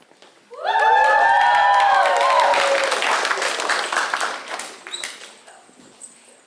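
Loud audience applause and cheering at a school fine arts night greets a duet singing a song from Wicked, with whoops and shouts over dense clapping that swells quickly, then gradually thins out.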